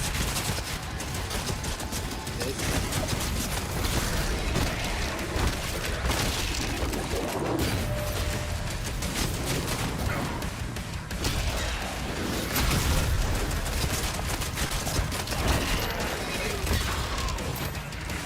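Skull-firing weapon in Doom: The Dark Ages shoots in a dense, nonstop barrage, with loud rapid blasts and crashing impacts layered over each other for the whole stretch.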